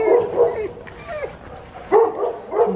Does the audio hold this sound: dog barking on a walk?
yes